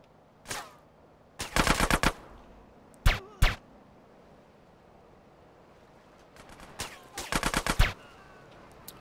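Gunfire in the video game GTA San Andreas Definitive Edition at Pier 69: sharp single shots and short rapid bursts, fairly close, spaced out over a low ambient background.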